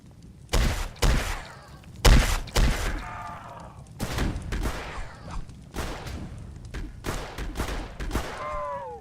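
Gunfire in the Roblox game Dead Rails in Scorched Earth mode, a string of sharp, loud shots in irregular bursts over about nine seconds, with game sound effects between them.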